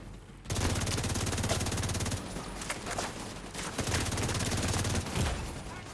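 Sustained automatic gunfire in the shooter game Rise Up Scout: a loud, dense fusillade of rapid shots that rolls on for several seconds, briefly easing before picking up again, with no voices over it.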